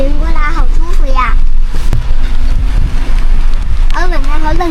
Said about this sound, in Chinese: 这边风很大的，天上又都在下雨